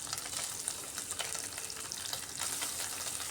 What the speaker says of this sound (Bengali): তেলটা খুব ভালো করে গরম হয়ে যাওয়ার পর এক এক করে সব মাছগুলো দিয়ে দিচ্ছি।